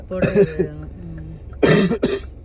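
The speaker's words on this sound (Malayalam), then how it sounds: "പോയ ചുമയൊക്കെ തിരിച്ചു വരുന്നുണ്ടല്ലോ." A person coughs during a long tunnel drive: a short burst of two or three harsh, throaty coughs, a brief pause with a faint vocal hum, then two more close, loud coughs.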